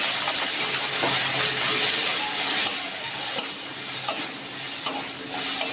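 Shrimp sizzling in hot mustard oil in a wok, a steady broadband fry with a few sharper spits and pops breaking through, close and continuous with no talking.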